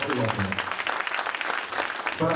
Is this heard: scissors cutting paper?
no